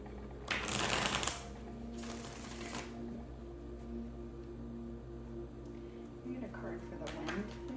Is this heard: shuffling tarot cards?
yes